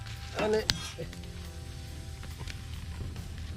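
Fish curry with chilli powder simmers in a pan, giving a soft, steady bubbling sizzle close by and one sharp metallic clink near the start.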